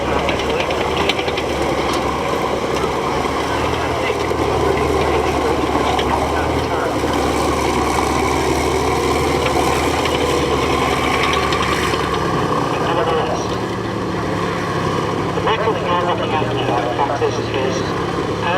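A 500 horsepower diesel engine in a military vehicle at the Duxford military vehicle rally runs steadily at a low, rumbling idle, with a constant droning hum and vibration under nearby crowd noise.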